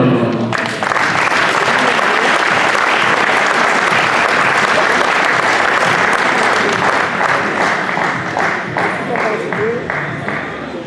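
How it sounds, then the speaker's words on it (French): An audience at a diploma ceremony bursts into loud, sustained applause that fills the hall, then thins slightly toward the end as individual claps become more distinct. A voice may be faintly present beneath the clapping. "Vous pouvez applaudir"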